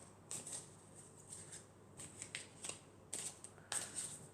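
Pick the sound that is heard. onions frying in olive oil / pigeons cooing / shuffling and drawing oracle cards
shuffling and drawing oracle cards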